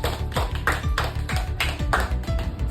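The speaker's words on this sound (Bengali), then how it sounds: "সায়ন্তিকার জন্য একটা জোর করে হাততালি হয়ে যাক।" Brief applause for a game winner at home, a few people clapping in a quick, uneven rhythm of sharp taps for under three seconds, close and moderately loud.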